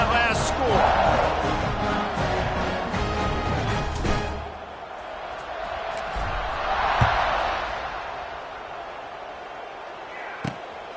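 Stadium crowd in the College Football 26 video game buzzing before a kickoff, a broad steady roar that swells and eases, with an announcer talking over it.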